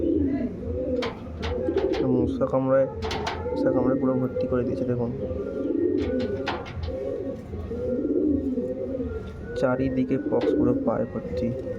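Pigeons suffering from pox, their feet covered in sores from mosquito bites, keep up steady, low cooing close by while someone talks over them almost the whole time.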